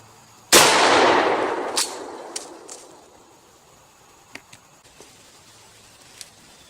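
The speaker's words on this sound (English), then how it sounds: "here we go with the 870 at 30 feet with double-aught buckshot" A single loud blast from a Remington 870 shotgun loaded with Winchester 9-pellet military double-aught buckshot, fired at a target 30 feet away. The report rings and echoes away over about two seconds, followed by a few faint clicks and knocks.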